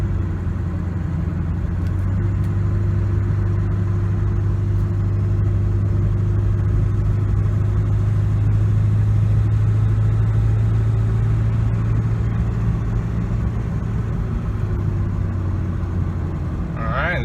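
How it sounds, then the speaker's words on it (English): A 2001 Ford F250 Powerstroke diesel pickup with a rebuilt transmission rumbles close by as it revs and shifts into second gear. Its steady low engine drone runs the whole time without a break. "I didn't rev it high enough for it to shift smoothly into the second gear"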